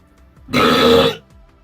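One loud, raspy burp lasting about half a second breaks an otherwise quiet moment.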